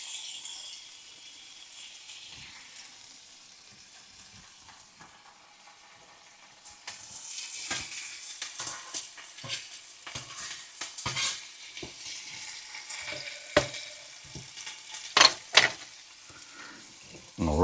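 ALDI canned corned beef frying in a hot pan, a soft steady sizzle that swells after the meat goes in, with scattered clinks and scrapes of a utensil stirring it.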